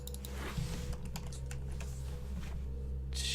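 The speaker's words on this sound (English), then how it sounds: "typing with gauntlets on" Rapid, uneven clicking of computer keyboard keys being typed on by someone wearing gauntlets, close and steady over a low hum, with no talk.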